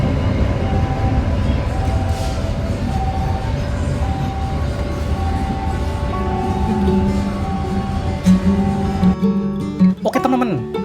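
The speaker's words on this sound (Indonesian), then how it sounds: "Pakai kereta mini ya." A mini train pulled by a BB 303 locomotive rolls along rails in the Lembah Anai area near Lubuk Alung, a loud, steady rumble with rhythmic wheel clatter and tonal hum throughout, ending in a few sharper clanks.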